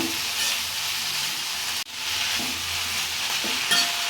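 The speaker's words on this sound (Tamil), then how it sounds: "எண்ணெய் ஊற்றி நல்லா வணக்கிக்கலாம்." Tomato and red chillies saute in oil in a pan for a chutney, giving a steady, fairly loud sizzle with occasional stirring scrapes and one brief break.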